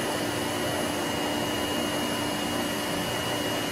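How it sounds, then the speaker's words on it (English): A vacuum pump runs steadily while pumping down a sealed vacuum chamber, giving a loud, continuous broadband hiss and hum with fixed tonal whine, unbroken throughout and with no talk. "There's a vacuum pump that pumps down this vacuum chamber."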